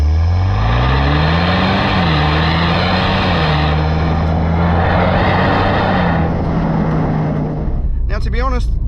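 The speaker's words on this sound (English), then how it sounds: "it's got some artificial sound coming through, but it's not as glorious as the V8" A 2024 Ford Mustang 2.3 EcoBoost engine roars close by with some artificial sound, holding a strong, steady drone as it accelerates, the pitch rising slightly, then dipping before easing off near the end.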